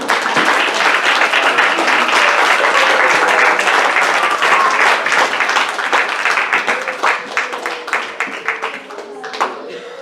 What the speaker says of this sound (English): Why don't we give a clap offering?